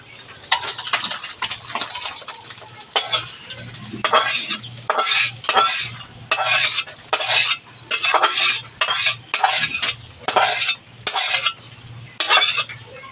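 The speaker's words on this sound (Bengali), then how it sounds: "এক কাজ করবেন স্টিলের এই গামলায় ঢেলে রাখবেন" Cooked mung dal with goat fat is scraped and poured from a pot into a steel bowl, with a rapid run of loud, rhythmic metal scrapes and clanks of a ladle close by.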